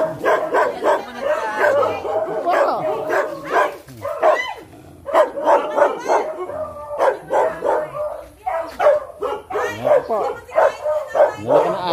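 A large dog barks repeatedly at close range outdoors in a garden area, its barks mixed with someone speaking over and between them throughout.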